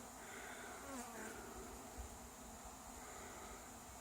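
A steady, dense buzzing of many honey bees around a newly installed hive with a new queen fills the air, constant and fairly close, with a few individual insects droning past.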